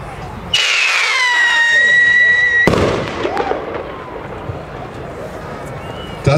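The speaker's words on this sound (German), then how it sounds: "Das war die Pyro-Union-Signalrakete F2, eine Neuheit." A Pyro-Union F2 signal rocket firework launches with a rising whistling hiss for a couple of seconds, then bursts with a loud bang that rumbles and fades into crackling outdoor ambience.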